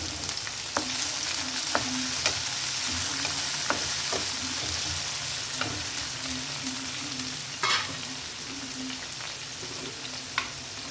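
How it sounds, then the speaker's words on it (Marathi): Tomatoes sautéing in a pan with pointed gourd and potato for a dry sabzi, giving a steady close sizzle with occasional scrapes and stirring clicks from a utensil, no talk. "आणि यामध्ये टोमॅटो टाकून घ्यायचा। त्याला परतून घ्यायचं।"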